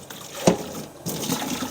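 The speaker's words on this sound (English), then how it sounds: "We'll just pour these out here in the sink." Bone broth from grass-fed beef is poured through a strainer into a sink, a sharp splash followed by a brief pause, then a sustained gurgling pour close by.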